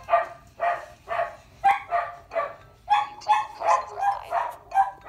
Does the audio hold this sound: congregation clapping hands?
no